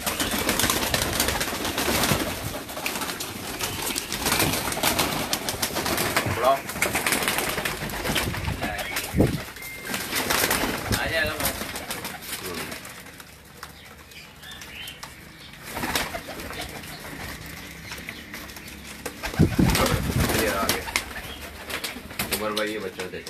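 Breeder pigeons coo and flap their wings in a loft. Throaty cooing mixes with bursts of wingbeats and people talking throughout at a steady, fairly loud level.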